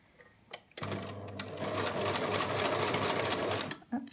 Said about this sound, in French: Donc là j'ai piqué tout autour de ma lingette.